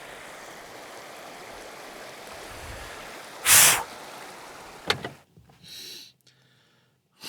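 A creek's flowing water makes a steady broadband wash through most of the stretch, broken by a loud brief burst and a few clunks near the end, after which the sound cuts away to near silence.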